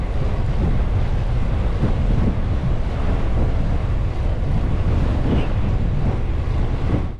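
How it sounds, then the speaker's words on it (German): Strong Ora thermal wind from Lake Garda roars across the microphone in a constant, buffeting rush, with a watery wash underneath and no one speaking. "Kurze Zeit später sollte mir die Ora, der thermische Wind vom Gardasee, entgegenblasen"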